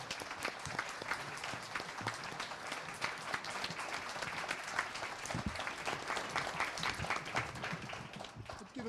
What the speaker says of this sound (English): Can we have a round of applause for all of our candidates